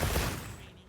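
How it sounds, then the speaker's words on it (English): A Wyvern Blast explosion from a light bowgun in Monster Hunter Wilds lands as one brief, loud, booming blast that decays over under a second. "and then when I fire, then you'll see it explode. That big fireball was not there before."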